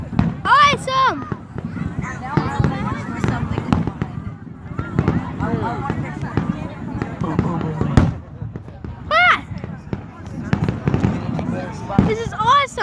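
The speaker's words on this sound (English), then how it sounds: "There'll be another clip of fireworks" Fireworks bursting outdoors, a rapid series of loud booms and crackling pops with whistling streaks, while someone narrates excitedly over the display.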